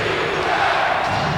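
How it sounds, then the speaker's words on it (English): A basketball arena crowd at a 1990 Chicago Bulls versus Cleveland Cavaliers game, a loud, steady roar of many voices filling the whole moment without letting up. "the crowd is back in it with 7:40 remaining"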